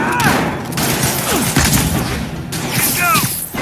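Soldiers' gunfire in the Spider-Man Remastered video game, a steady loud rattle of shots blended with game sound effects and impacts, with voices calling out over it.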